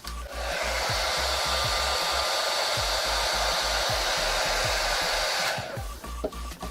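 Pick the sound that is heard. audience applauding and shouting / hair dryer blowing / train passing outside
hair dryer blowing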